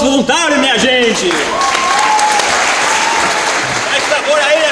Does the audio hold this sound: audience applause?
yes